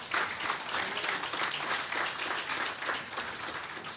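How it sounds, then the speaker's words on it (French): A church congregation applauds the Lord, steady dense clapping from a crowd for a few seconds, fairly far off and not very loud, with no talk over it. "On peut applaudir le Seigneur."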